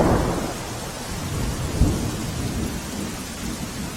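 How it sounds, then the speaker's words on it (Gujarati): Heavy rain pours down in Gir Somnath, Gujarat, a dense, loud and continuous roar of water with a deep rumble underneath, no voices. "ગીર સોમનાથમાં સામેલાધાર વરસાદ પડી રહ્યો છે"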